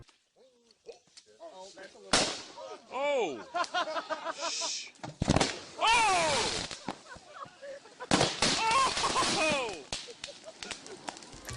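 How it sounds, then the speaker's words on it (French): A block of sodium metal floating in lake water sets off several sharp, violent bangs and crackling bursts in quick succession over splashing water, with people shouting and exclaiming between the blasts. "un bloc de sodium, ce métal mou, dans de l'eau, en l'occurrence un lac, et on a des explosions"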